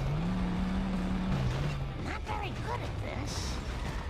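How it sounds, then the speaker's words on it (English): A car in the game Simpsons Hit and Run scrapes and crunches as it takes damage, with clattering impacts and grinding mechanical noise over a droning engine tone that slides downward, under continuous talk. "we're really busting up our car here quite a bit"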